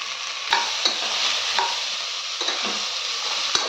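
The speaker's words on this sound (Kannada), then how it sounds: "ನಾನು ತೊಗೊಂಡಿರುವಂಥ ಎಲ್ಲ ತರಕಾರಿನೂ ಒಂದೇ ಸಲ ಹಾಕೋತಾ ಇದ್ದೀನಿ. ಅದೇನು ಡಿಫ್ರೆನ್ಸ್ ಆಗಲ್ಲ. ಹಾಕ್ಬಿಟ್ಟು ಚೆನ್ನಾಗಿ ಫ್ರೈ ಮಾಡ್ಕೋಬೇಕು." Mixed vegetables and onion sizzle steadily in a hot pan as a spoon stirs them, scraping and clinking a few times, close up with no talking.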